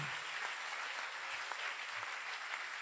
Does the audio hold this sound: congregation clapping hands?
yes